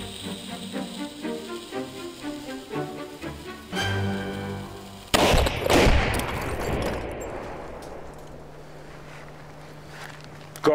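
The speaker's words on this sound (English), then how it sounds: "All right, somebody light it. It's going to be loud. You may fire when ready." A loud gun is lit and fired outdoors in Alaska. There is a rapid crackle of shots, then one sharp, heavy blast that rolls into a long fading rumble, with no voices.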